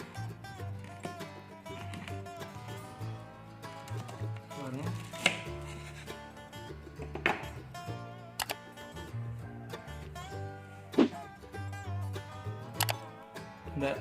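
A knife slices through crispy fried chicken nuggets, making a handful of sharp, crunchy cuts at irregular intervals over a soft musical background.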